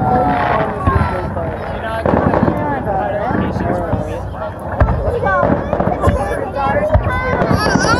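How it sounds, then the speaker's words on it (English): Large American fireworks bursting and crackling in a loud, continuous barrage, with several sharper booms among the rumble and people chatting excitedly over the display. "Huge fireworks."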